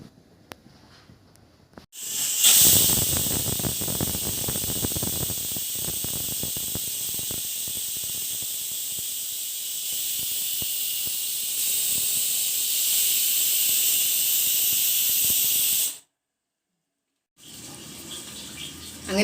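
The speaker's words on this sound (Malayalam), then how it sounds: "ഇനി ഇത് ഒരു 3-4 വിസിൽ വരുന്നത് വരെ വേവിച്ചെടുക്കാം" A small Bajaj Majesty PCX 63H handi pressure cooker boiling potatoes vents a loud, steady steam hiss for about thirteen seconds, then cuts off abruptly, followed by a short pause and a quieter return of hiss.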